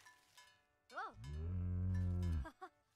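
A Sims 4 cow plant gives a single long, loud, close moo that slides up into a sustained low bellow and tails off with a short grunt, surrounded by quieter game sounds.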